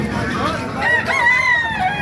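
Roosters crow over a busy hum of clucking chickens and background chatter at a chicken market in Baliuag, Bulacan, loud and close, like a crowded poultry area.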